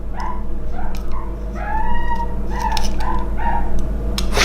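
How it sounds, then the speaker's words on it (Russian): A puppy whimpers and yelps in a rapid string of high, wavering cries, close and loud over a steady background hum from a home workshop where polyurethane skateboard wheels are being cast. "Кто-то щеночка мучит."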